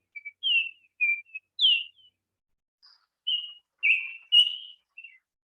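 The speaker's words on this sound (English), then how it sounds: "You will hear an Oriole's piping notes before you see him." A Baltimore Oriole sings a series of clear, piping whistled notes in short separated phrases, loud and close against complete silence, with a brief pause midway before the phrases resume.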